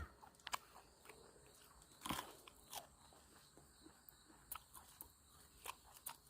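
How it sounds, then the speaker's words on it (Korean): Someone eating matsutake mushrooms, with close, quiet crunchy bites and chewing crackles that come in irregular bursts and nothing else around them. "다 먹어 치우자, 이제. 송이."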